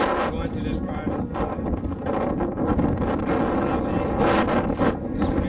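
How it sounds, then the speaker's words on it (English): Strong wind in the Mojave buffets a moving RV: a continuous loud roar and rumble with gusting surges and rattling, close and filling the whole scene. "It's really windy here, and it's just blowing the RV back and forth."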